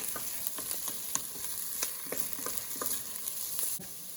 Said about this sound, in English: Now we have 4 cloves of garlic chopped up. Actually minced garlic. Cook that for a couple of minutes.